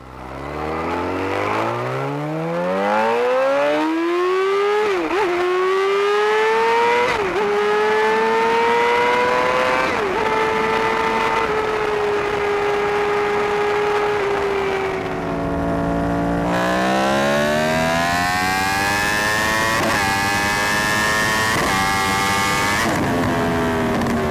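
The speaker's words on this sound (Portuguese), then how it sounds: "Vamos ouvir a seguir a Yamaha R1 com motor comum e em seguida o modelo com motor crossplane." Two Yamaha R1 sport bikes rev one after the other, first one with a standard engine and then one with a crossplane crankshaft engine. The pitch repeatedly climbs and drops through gear changes, loud and sustained, with a noticeably different tone in the second half.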